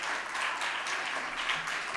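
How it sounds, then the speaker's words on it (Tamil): Applause for a children's dance performance at a Christmas program: a dense, steady wash of clapping from a crowd that holds for about two seconds at moderate loudness, with no clear talk over it. "உங்களுக்கு நீங்களே ஒரு பெரிய கைத்தட்டல் கொடுத்துக்கோங்க"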